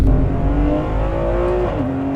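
A loud Ferrari 599 V12 engine revs hard and climbs in pitch, the tone rising steadily as it accelerates, then shifting briefly near the end.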